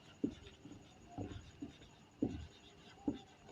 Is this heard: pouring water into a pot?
no